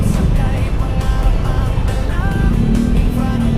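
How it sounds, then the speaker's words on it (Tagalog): Heavy Saturday road traffic in Metro Manila near the Anonas, Aguinaldo and Shaw Blvd. subway station sites, a dense continuous rumble of engines and passing vehicles with faint horns and tonal sounds mixed in. "Kaya lang grabe traffic."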